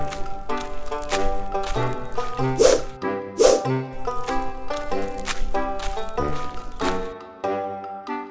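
A furry stray dog in a Bangla folk-tale cartoon barks in a few sharp, loud bursts near the middle, set against continuous background music.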